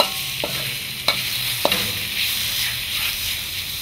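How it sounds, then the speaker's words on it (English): Minced garlic frying in a little vegetable oil gives a loud, steady sizzle, broken by a few sharp clicks of a utensil stirring the pan, with no talking. "cook it a little bit in oil, vegetable oil, before you add the sauce"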